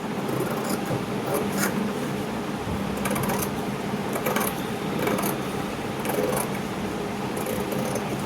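A sewing machine runs steadily while stitching the lining of a blouse, a continuous mechanical whir with fast rhythmic clicking and brief bursts of louder ticking. The machine is close and no voices are heard.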